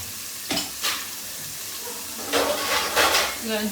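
Chicken frying in a pan with a steady sizzling hiss, broken by several louder bursts of stirring and spattering close by.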